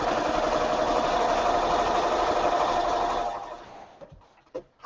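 A sewing machine stitches a seam on a small Tilda ornament doll, its steady mid-pitched motor hum running loud and continuous for about three seconds before stopping, followed by a few faint handling clicks.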